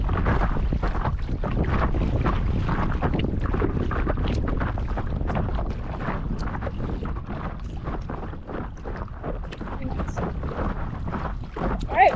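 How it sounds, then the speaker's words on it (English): Wind buffets the microphone while paddle boarding through the shallows near the shore of Makemo Atoll in French Polynesia. It is a loud, rough, continuous rush with uneven gusts and no other sound. "the wind has lessened a little bit as we get closer to shore"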